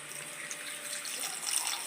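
Water pours steadily into a mixer jar holding coconut pieces, a soft continuous trickle with no talk.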